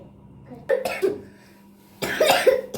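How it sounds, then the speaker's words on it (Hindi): A child coughs in two short bursts, a pair of quick coughs each time, close and moderately loud against a quiet background. "मुंह पे रख के खांसते हैं"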